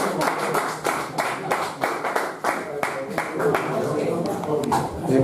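An audience at a Sardinian evening of songs and poetry gives a hand for Luca, steady clapping from a crowd that keeps going throughout, with a voice talking over it at points.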